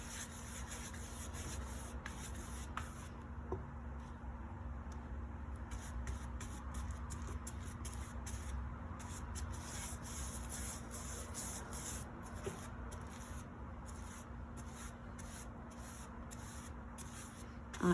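Brush strokes of paint being applied onto wood, soft close rhythmic rubbing swishes repeating in quick bursts over a low steady hum, fairly faint throughout.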